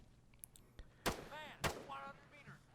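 Two sharp gunshots crack out about half a second apart during an Arma 3 convoy-rescue firefight, with someone talking in between and after them.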